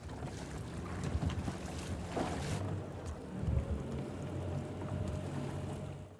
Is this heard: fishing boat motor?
yes